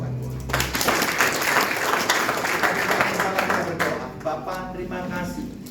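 A church congregation claps and applauds for several seconds during a service, a dense, loud wash of hands that swells and then fades, with a voice speaking over it.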